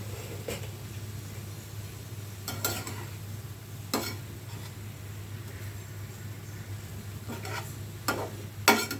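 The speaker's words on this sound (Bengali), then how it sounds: "আমি শাকটা একটু নাড়াচাড়া করে দিই" Halancha greens with prawns get stirred in a pan over a low flame, giving a quiet background sizzle broken by a few sharp scraping strokes and clinks of the spoon against the pan.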